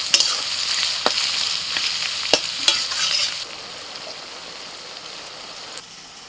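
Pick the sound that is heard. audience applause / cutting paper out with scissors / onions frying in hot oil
onions frying in hot oil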